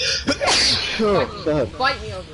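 One sharp sneeze bursts out close to the microphone, with people talking loudly right after it during a live stream.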